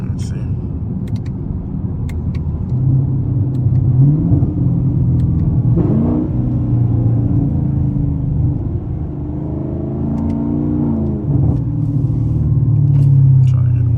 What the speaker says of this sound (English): I really been doing a lot of cruising, downshifting. Let y'all hear the pops on it.